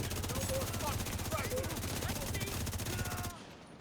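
Ouroboros exotic SMG in The Division 2 firing fire bullets from its magazine: a rapid, evenly spaced stream of loud shots sustained for about three seconds, then cutting off abruptly into near silence.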